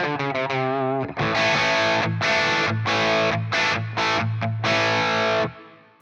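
Heavily distorted electric guitar through a Blackstar St. James EL34/6L6 tube amp plugin, thick overdriven tone, a few ringing notes then chunky chords and palm-muted bursts, loud and up close with no talking.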